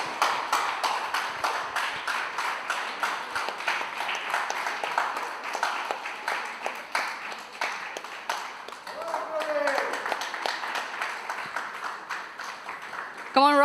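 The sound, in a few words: audience applause for prize winners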